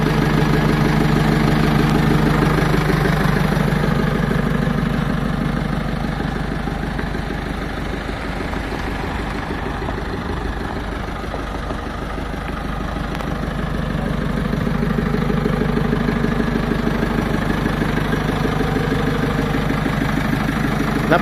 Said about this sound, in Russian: Двигатель работает как часики.